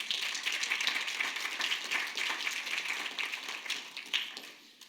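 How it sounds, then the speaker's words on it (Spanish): A church congregation claps during a sermon, with many hands making a moderately quiet, rapid patter that runs steadily and then fades and scatters into a few last claps. "Dale un aplauso al Señor."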